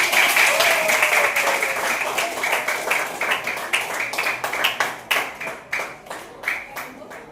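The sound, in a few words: students applauding a classmate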